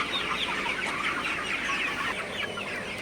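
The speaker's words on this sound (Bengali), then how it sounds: "আপনারা দেখতে পাচ্ছেন সোনালি সুপার হাইব্রিড মুরগিগুলা খুবই ভালো আছে এবং খুবই চঞ্চল" A flock of Sonali super hybrid chickens clucks continuously and busily at close range, overlapping calls forming a dense chatter with no talking.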